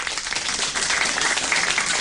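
A studio audience at a 1993 late-night television show claps for a stand-up comedy contestant, producing a dense, steady wash of applause that holds at an even, fairly loud level for the full two seconds.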